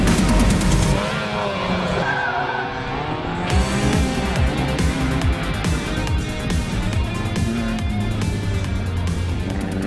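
An autocross car runs a coned course, its engine revving and tires skidding and squealing through the turns, loud and continuous with rising and falling engine notes over about ten seconds.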